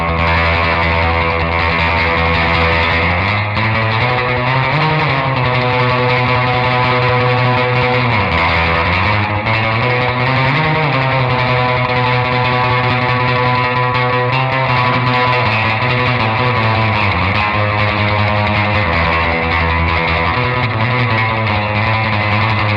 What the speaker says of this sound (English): this super wet, splashy, pingy, just awesome sounding reverb